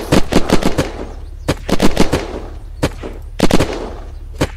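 A heavy machine gun fires in the video game Unturned, loud close bursts of rapid shots in several separated clusters with brief gaps between them.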